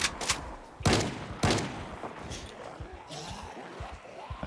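A trench gun fires in the Project Zomboid multiplayer game, with about three loud, close blasts in the first second and a half, followed by quieter in-game clatter.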